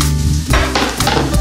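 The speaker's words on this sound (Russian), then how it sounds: "Пока жарится лучок, я возьму грибочки." Chopped onion frying in a hot pan, a loud steady sizzle with stirring and scraping bursts throughout, close and with no talk.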